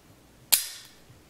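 The slide of a Taurus PT 738 .380 pistol is racked once, giving a single sharp metallic snap close to the mic with a brief ringing tail, in a quiet space without talking.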